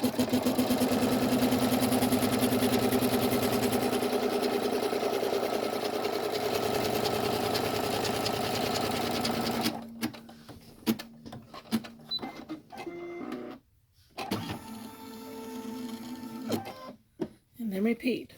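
A sewing machine runs a steady, continuous stitch along a double zip splash bag for about ten seconds, then stops and gives way to quieter handling and light talk with brief bursts of motor.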